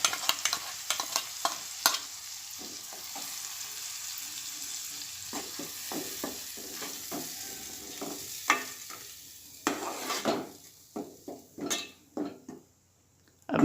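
Tomatoes and ground coconut fry in a Konkani crab masala, with a soft steady sizzle under irregular scraping stirs and light clinks of a spoon against the pan, growing busier toward the end.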